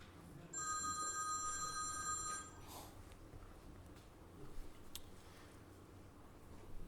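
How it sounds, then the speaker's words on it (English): Telephone bell ringing for about two seconds with a bright electronic trill during a lecture, then stopping, leaving room tone and faint noises. "I know that's not my phone."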